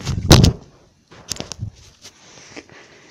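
A gunshot sound effect: one loud, sharp bang at the start that quickly fades, followed by a few quieter clicks and thumps.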